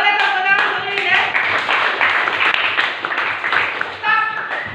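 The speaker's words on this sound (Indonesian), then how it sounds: "Boleh tepuk tangan dulu ya." Students in a junior high science classroom clap their hands together in a lively burst, mixed with loud voices calling out over the clapping.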